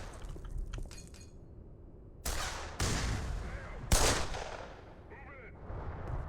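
Gunfire in the video game Black Mesa: three loud, sharp bursts of shots a second or so apart, each ringing briefly, over a low steady game ambience with faint background sounds.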